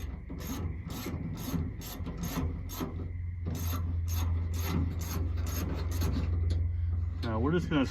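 A hand ratchet snugs bolts on a 1967 Mustang door, clicking in quick repeated bursts with short pauses between strokes, close and clear.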